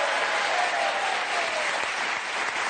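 A television studio audience on the French variety show Vivement Dimanche breaks into sustained, thick applause, a continuous wash of many hands clapping at an even, loud level throughout.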